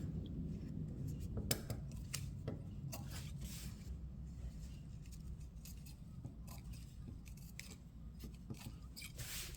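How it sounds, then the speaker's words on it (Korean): Scissors snip repeatedly into the lining seam allowance of a tailored-collar coat, giving a quiet, close, irregular run of crisp cuts over soft fabric rustling. "그럴 때 안감만 가위밥을 줍니다"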